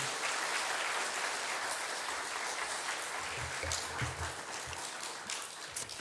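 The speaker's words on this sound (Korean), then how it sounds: "큰 박수로 환영해 주시기 바랍니다" Sustained, dense applause from a church congregation at a student worship service, welcoming a pastor to the stage; a steady, even roar of many hands that continues throughout.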